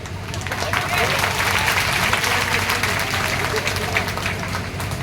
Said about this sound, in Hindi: मेरे कहने पे अपने लिए ताली बजाओ।